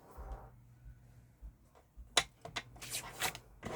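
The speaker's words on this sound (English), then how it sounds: "I'm just going to trim off that rolled edge there." Scissors trimming the rolled edge off a paper envelope flap during a papercraft stamping project, a few short crisp snips and paper rustles in the second half after near silence, close and fairly quiet.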